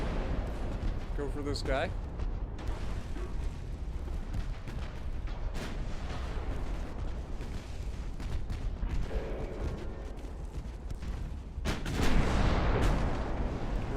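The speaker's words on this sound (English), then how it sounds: "Massive hit and a torpedo detonation" Naval guns boom and a torpedo detonates in a USA long-campaign naval warfare game, heavy repeated blasts and rumbling impacts with a louder burst near the end, while someone talks over them.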